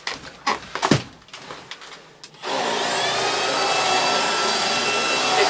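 Beko cordless vacuum cleaner after refurbishment, heard first as a few knocks and handling clatter, then switching on to a steady, loud, high-pitched whine with a constant airy roar that holds to the end.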